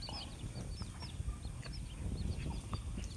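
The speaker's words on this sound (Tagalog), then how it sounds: "Ayun pa bantam na manok." Bantam chickens clucking in short, bright calls scattered throughout, with steady farmyard noise underneath; no talking.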